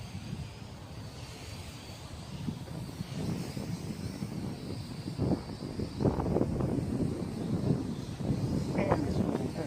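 An MJX X600 drone flies in extreme, gusty wind, with low buffeting rumble and motor whine that swell louder and rougher toward the end.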